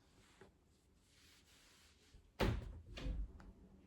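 A pet dog pushing open a door at home, heard as a sudden knock and thud after near-silence, followed a moment later by a second softer bump, close by.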